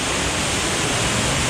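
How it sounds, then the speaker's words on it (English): A waterfall thunders inside a cave, a loud, steady broadband roar of falling water that fills the space with no other sounds standing out. "Wow, we made it to the second waterfall."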